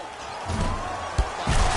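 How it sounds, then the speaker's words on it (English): A basketball slam dunk on a putback during a playoff game, heard as a sharp thud and rim bang standing out once over steady arena crowd noise, followed by rising crowd roar. "Slams it home on the putback."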